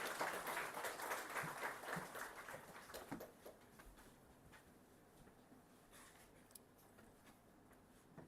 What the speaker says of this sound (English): Please join me in welcoming with a huge round of applause.